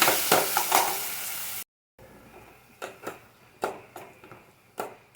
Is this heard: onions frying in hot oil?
yes